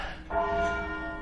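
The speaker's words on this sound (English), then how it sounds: "And it's not just any bell. Black Tom weighs as much as a Mini Cooper." Large church bell called Black Tom, heavy as a small car, struck by a hand-pulled rope in a Christmas bell-ringing marathon; a single loud, close strike with a sustained, ringing hum that decays slowly, no voices.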